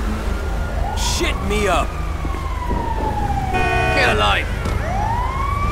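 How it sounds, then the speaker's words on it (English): An ambulance siren in a video game wails loudly with rising and falling sweeps, continuous through shouted talk and street noise. "Ambulance!"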